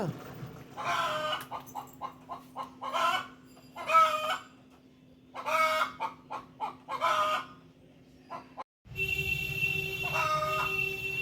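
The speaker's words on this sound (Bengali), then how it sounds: "কেমন ডাকছে কক কক করে" Chickens clucking and a rooster crowing in a village yard, a series of near, repeated clucks and crow calls in bursts, followed by a humming background with a further call at the end.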